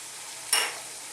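Spice powders hit a hot frying pan of vegetable curry with black-eyed peas, giving a short, sudden burst of louder sizzling over a steady background fry, up close and with no talking.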